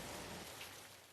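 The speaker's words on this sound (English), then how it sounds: "Rain, yeah." Rain falls in the anime film Weathering With You, a faint, steady hiss of downpour heard alone in a brief stretch.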